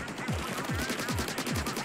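Rapid ink weapon shots in the video game Splatoon 3: an even rhythm of about five punchy, descending pops over under two seconds, fairly loud and close, with game effects around them.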